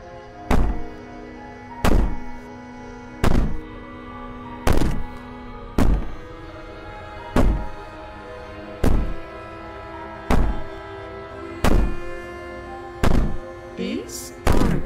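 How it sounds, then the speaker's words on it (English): In the video game Slay the Princess, a princess violently rattles a door: about eleven heavy, close thuds strike at a steady pace, one every second and a half, with quieter ringing between them. "As she violently rattles the door, you do your best."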